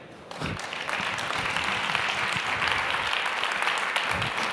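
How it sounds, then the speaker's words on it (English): Conference audience applauding after a keynote talk at a tech event, dense sustained clapping from a large crowd that swells quickly and holds steady throughout. "So give yourself a round of applause."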